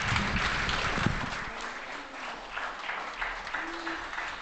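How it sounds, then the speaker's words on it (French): Audience in a courtroom-style hearing applauding after a witness testimony, a steady round of clapping that holds for several seconds at moderate volume, with faint voices and a brief hum underneath. "Vous pouvez applaudir."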